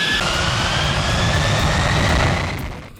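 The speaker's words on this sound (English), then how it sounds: "It is a classic demonstration of the thrust generated by a jet engine." Loud, steady roar of Boeing 747 jet engine thrust, close and continuous, tailing off slightly at the end, with no voices.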